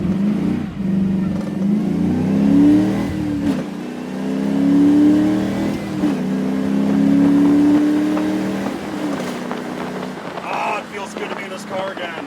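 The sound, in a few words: 1979 Camaro-based car engine revving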